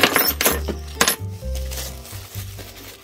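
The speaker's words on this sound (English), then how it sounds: "We got some drill bits" Metal drill bits from a tool auction haul being handled, a close run of light metallic clinks and small jingling taps, clustered and irregular, with no talking.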